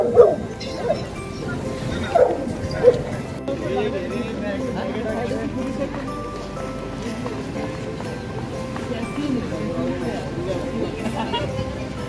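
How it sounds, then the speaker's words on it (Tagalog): A large dog barks a few times near the start, deep and loud, then the scene continues under a steady murmur of street noise and voices. "That's a big dog."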